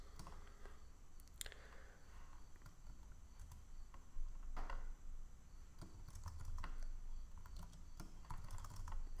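Keys on a computer keyboard are tapped in short irregular bursts, moderately close and fairly quiet, over a steady low hum.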